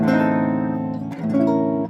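Several guitar strings ring out together in a sustained chord, then a second cluster of notes is sounded, close and clear.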